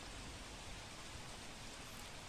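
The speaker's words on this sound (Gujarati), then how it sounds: "જૂનાગઢના વિસાવદરમાં ધોધમાર વરસાદ પડ્યો" Dense, even hiss of heavy rain pouring down without a break in Visavadar, Junagadh, a constant wash of noise with no voices.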